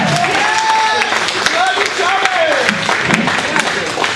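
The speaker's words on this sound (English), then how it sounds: "So just give him a round of applause real quick" Audience applause at the final show at the Grindhouse, a loud steady clapping wash from the crowd with scattered sharp claps and whoops, while a voice sings or talks over it.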